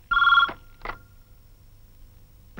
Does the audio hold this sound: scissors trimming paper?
no